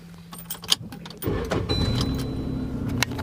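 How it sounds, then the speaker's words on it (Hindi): A car engine starts beside a quiet rural road near a small tubewell: faint key jingling and rustling, then the engine catches and settles into a steady, close low idle that runs to the end. "तो गाड़ी करता हूँ स्टार्ट"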